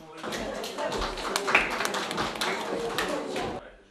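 Applause greets the city mayor on arrival at the REU-7 housing maintenance office: a dense burst of many hands clapping that holds steady for a few seconds, then fades out, with voices mixed into the crowd noise.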